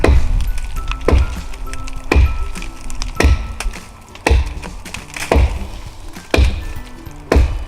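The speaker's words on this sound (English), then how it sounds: "We're gonna whack it into this cherry tree and see if the edge holds up." A Camillus Carnivore X titanium machete chops into cherry tree wood with about eight loud, sharp thwacks at a steady pace of roughly one per second, heard close with no speech.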